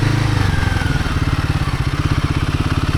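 A Himalayan 450 motorcycle pulls through soft, sandy singletrack, its single-cylinder engine thumping loud and close in a steady, rapid pulse with a low throbbing rumble throughout.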